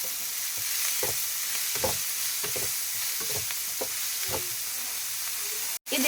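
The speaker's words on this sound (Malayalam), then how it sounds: "അതിനുശേഷം കറിവേപ്പില ചേർത്ത് കൊടുക്കാം. ഇതൊന്ന് നന്നായിട്ട് ഇളക്കി യോജിപ്പിച്ച് കൊടുക്കാം." Curry leaves frying in hot oil for Kerala-style egg bajji, a loud steady sizzle close by with repeated scraping strokes of a spoon stirring the pan, cut off abruptly near the end.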